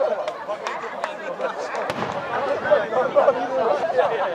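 Fireworks at the 50th Nishi-Nippon Ohori fireworks festival pop and crackle in sharp scattered bursts, mostly distant, beneath steady crowd chatter and nearby voices talking.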